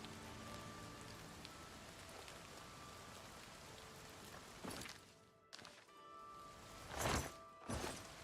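Rainfall in the video game Oblivion Remastered makes a steady hiss of drops on surfaces, with a few louder crackling splashes near the end.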